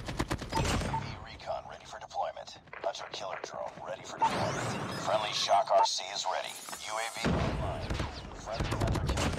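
AK-47 fire in the mobile shooter Call of Duty Mobile comes as repeated sharp bursts mixed with weapon handling clicks and game effects, while a voice talks over much of it.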